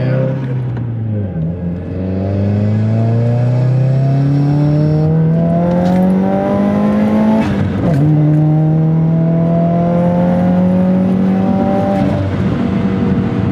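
A turbocharged six-speed manual Nissan Altima accelerating hard, the engine note climbing through the gears with short dips at each shift, loud and close from inside the car.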